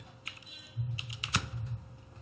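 Ctrl and semicolon pressed on a computer keyboard produce a few quick, close key clicks with one sharper tap in the middle. Each keystroke is distinct, against a quiet background with no talk.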